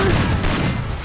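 A brief, dense burst of rapid gunfire from a mobile shooting game, a loud rattling volley filling just over a second.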